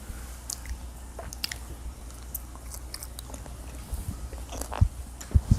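Homemade air-fried French fries being chewed close up, soft wet mouth and squishy chewing sounds with a few sharper bites toward the end, no talk over it.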